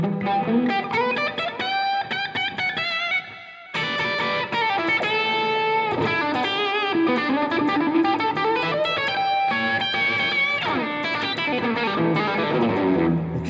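Electric guitar with a crunchy, biting overdrive tone plays dense chords and riffs continuously, loud and close, alone without voices.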